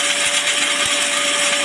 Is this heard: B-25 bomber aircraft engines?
no